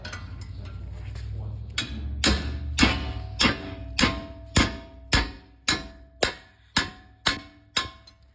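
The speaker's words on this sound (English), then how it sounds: "you use a wrench plus a hammer like this." A hammer strikes a wrench about a dozen times in a steady rhythm to loosen bolts on a 2016 Chrysler 300 brake job, each blow a bright clang that rings briefly, with a low rumble underneath early on.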